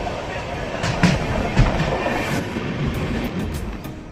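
The Humsafar Express rolls steadily past a station, a continuous rumble of wheels on rails with clickety-clack beats and a few sharp clicks, heard from on board.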